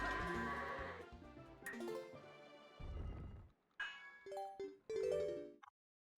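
Bleating goat calls from the video game Twilight Princess HD, a series of short, nasal, tonal cries mixed with game music and chimes, loud and close, with several bursts over a few seconds before cutting to silence.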